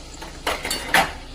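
In a home kitchen, a plate is set out for serving, with two short clinks of dishware against a surface over a quiet background.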